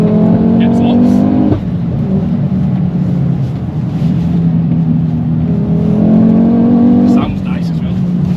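A stage 3 big-turbo Mk2 Ford Focus RS engine revs hard and loud with rising pitch, drops off around the middle as the throttle lifts, then climbs again in a second strong acceleration near the end.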